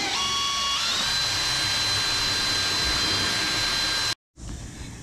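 A home-made 3D printed 60mm jet unit with a damaged impeller runs at a steady high-pitched whine that rises briefly at the start, holds loud and constant, then cuts out for a moment before resuming.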